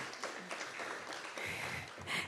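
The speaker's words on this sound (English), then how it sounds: "Another round of applause." A round of applause fills a public board meeting, a soft, steady wash of many hands clapping that sounds faint and distant throughout.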